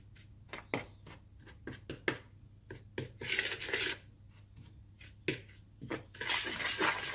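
Dry muffin ingredients with baking soda being stirred in a bowl, giving repeated scraping and rasping strokes with light clinks, close and moderately quiet, no talk.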